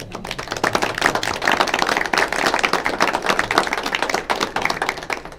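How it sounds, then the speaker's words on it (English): An audience at a school board of education meeting claps for someone being honored, a loud, dense burst of close applause sustained throughout. "Should we clap for her?"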